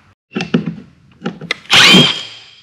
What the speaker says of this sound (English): it's a good idea before you actually drill the holes on the trolling motor